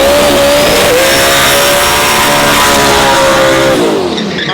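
Big Bad Brown, a Pasadena-built pickup truck from Zapata, Texas, revs hard at a drag race, its engine loud and close in one sustained roar that rises in pitch and then drops away.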